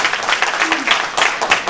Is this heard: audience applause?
yes